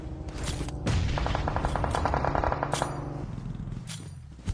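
Video game gunfire in a PUBG esports match: single shots followed by a fast automatic burst, loud and close, with a few sharper cracks afterward and no voices.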